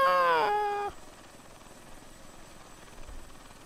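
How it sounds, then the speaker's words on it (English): A short descending vocal cry gives way to the steady, low whirring drone of a helicopter engine in a flight simulator game that holds for several seconds. "I'm gonna crash this helicopter again because I am just not very good at flying this thing."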